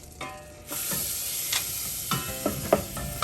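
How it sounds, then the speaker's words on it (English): Butter and flour sizzle in a pan while a utensil stirs and scrapes, with a continuous hiss and several sharper knocks and scrapes near the end. "Put the butter in, and add a tablespoon of flour here, and give it a good stir."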